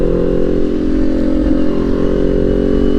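A motorcycle engine holds a steady, close, continuous mid-pitched drone with no clear drop in revs, running alone without talk.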